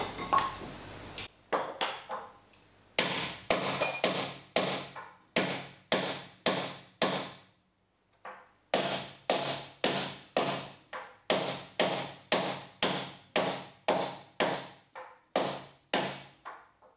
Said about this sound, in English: I'm just hammering this onto, just made a little back plate and just working it on.